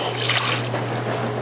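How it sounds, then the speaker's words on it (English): Leftover marinade poured over sliced deer meat for jerky, a brief close liquid splash and trickle over a steady low hum. "That's what you're gonna pour over the rest of the meat."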